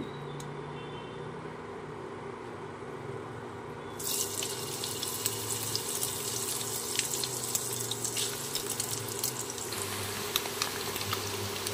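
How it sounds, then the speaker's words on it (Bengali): Paneer cubes dropped into hot oil and butter in a kadai set off a sudden steady sizzle that stays continuous, with faint background hum underneath. "তেল আর বাটার গরম হয়ে গেছে, পনিরগুলো আমি দিয়ে দিচ্ছি"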